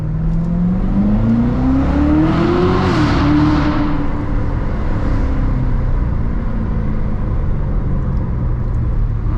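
A Corvette Z06 engine drones loudly from inside the car while driving, rising in pitch as it accelerates briefly, then settling into a steady cruising hum under constant road noise.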